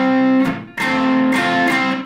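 A loud guitar chord from a guitar lesson, played with a ring-finger hammer-on. It sounds as several bright, full strums in quick succession, each ringing thickly with a slightly distorted edge and no talking.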